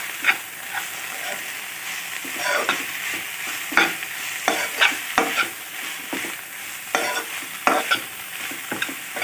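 Amaranth leaves (thotakura) are stir-fried in a pan with a continuous crackling sizzle, punctuated by irregular spatula scrapes and stirring clatter close by.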